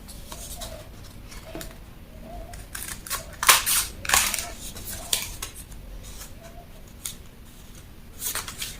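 Scissors cutting out a paper sleeve pattern, a series of crisp snips and crunchy paper rustles at close range, irregular in rhythm, with a couple of louder cuts in the middle.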